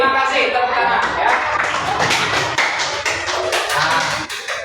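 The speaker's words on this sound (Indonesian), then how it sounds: "tepuk tangan ya" Children clapping hands in a classroom, a short burst of quick uneven claps close by, with some voices mixed in.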